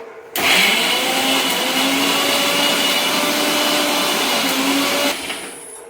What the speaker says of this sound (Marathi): तर आधी हा मसाला आहे तो वाटून घेते तर ह्यात मी कांदा लसूण अद्रक आणि खोबरं आणि टमाटो वगैरे भाजून वगैरे घेतलेला आहे आणि कोथिंबीर तर ह्याला मी आता वाटून घेते